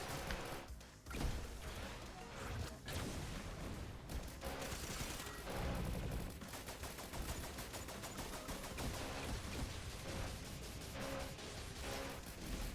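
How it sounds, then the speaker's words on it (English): Gauss cannon fire in the Noita video game: a dense, continuous roar of rapid, gunfire-like blasts and crashes that stays loud and busy throughout. "Firing the Gauss cannon!"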